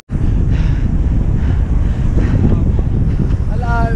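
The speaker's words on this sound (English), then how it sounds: "This wind here is different" Strong wind buffets the microphone in a constant roar for the whole clip, with faint voices barely audible beneath it.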